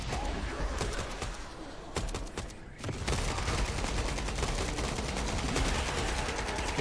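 Automated base turrets in EOE Survival fire rapid, dense bursts of gunfire, a continuous close rattle of repeated shots with a short lull before resuming.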